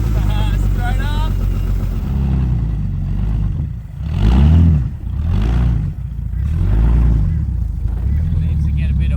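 A Ford AU Falcon, jump-started after sitting a long time, runs with a loud rough engine note that swells and dips in several revving surges, with people talking over it.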